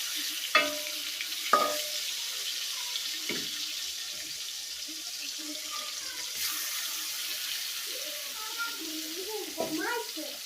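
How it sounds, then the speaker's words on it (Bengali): Pieces of rohu fish cooking with vegetables sizzle softly in a large wok, broken by a few sharp clanks as they are turned and stirred, with a voice talking quietly toward the end. "তো এটা উল্টে পাল্টে ভালো করে ভাইজা নিই"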